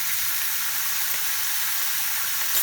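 Pumpkin and potato frying in a pan with salt and turmeric for a Maithili-style curry, giving a steady, dense close-up sizzle that hisses continuously with no talking.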